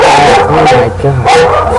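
Several dogs bark and yip close by in quick bursts, mixed with a startled voice.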